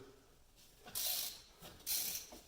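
A ratchet clicks in two short bursts while turning 13 millimeter brake bolts on a 2004 Dodge Durango front brake job, heard near and fairly faint.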